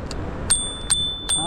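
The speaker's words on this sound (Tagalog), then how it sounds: "ito pala natunog yung bell" A small bell rings three times in quick succession, each a bright, clear ding over a low rumble of street traffic.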